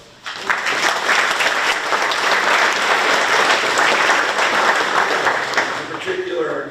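An audience at the opening of a construction career center applauds the staff, a loud, dense and sustained burst of clapping from many people that swells in quickly and holds for several seconds.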